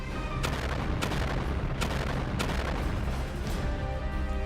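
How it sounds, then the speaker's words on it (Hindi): Houthi missiles exploding around a merchant ship at sea, heard as a dense, continuous roar of blasts and booms with several sharp bursts standing out, loud and sustained throughout. "जहाज के चारों तरफ हूती मिसाइलें बरसाना शुरू कर देता है, जिससे जबरदस्त धमाके होने लगते हैं"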